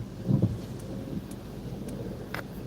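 Heavy rain from a hurricane rain band in Port O'Connor, Texas, a steady wash of rainfall with a low rumble of thunder near the start, heard outdoors with no talking.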